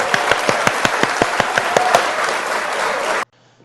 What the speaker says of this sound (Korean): 수고한 모두에게 박수!